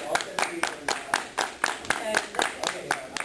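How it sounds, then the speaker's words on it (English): Hand clapping during an oversight committee meeting: sharp, evenly spaced claps at a quick regular rhythm, close and fairly loud, with people talking underneath. "We can clap."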